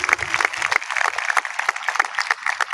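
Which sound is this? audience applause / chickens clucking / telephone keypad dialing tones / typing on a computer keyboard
audience applause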